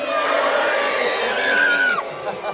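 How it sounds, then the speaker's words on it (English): A large crowd at a Butlin's football festival presentation booing on cue: a loud, sustained mass of voices drawn out for a couple of seconds, then trailing off into scattered shouts. "I want you to boo me as loud as you possibly can."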